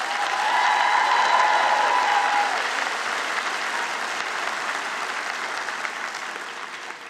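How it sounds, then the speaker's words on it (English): Graduating class of 2017 applauding at a School of Human Services convocation, a broad wash of clapping from a large crowd that starts loud and slowly thins over several seconds, with no talk over it. "Give yourself a round of applause."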